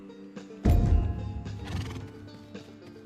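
A horse in the video game Rust neighs loudly, a sharp whinny that trails off into snorting and faint hoof movement, with no talk.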